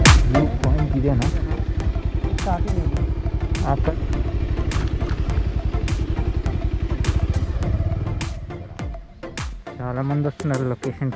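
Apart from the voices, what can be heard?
motorcycle riding on a dirt road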